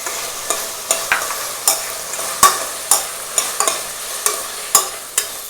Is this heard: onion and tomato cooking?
yes